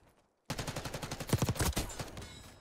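Rapid bursts of submachine gun fire in the shooter Black Ops 6, a dense run of close, punchy shots after a brief silence, loud and continuous with no talking.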